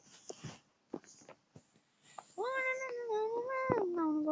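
A new cat meows several times up close, a few short chirps and then a long drawn-out meow, in a quiet space.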